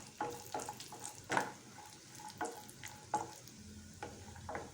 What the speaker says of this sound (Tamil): கேஷ்யூ நட்ஸ் ட்ரை கிரேப்ஸை நம்ம வறுத்து எடுக்க போகிறோம்